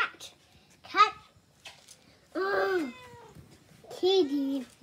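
A mother cat meows several times in separate drawn-out calls, close and fairly loud, with quiet gaps between them.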